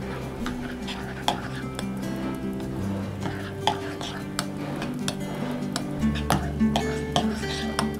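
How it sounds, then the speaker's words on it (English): A spoon scrapes and clinks around a pot as cocoa powder is stirred into melted butter on the stove, a steady soft stirring with occasional sharper taps over a low kitchen hum. "we're going to add 4 tablespoons of cocoa. And I'm going to give this a quick stir."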